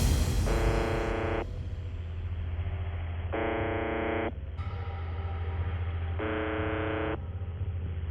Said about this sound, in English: An enigmatic radio broadcast that no one claims to run has been transmitting a monotonous droning sound like this one,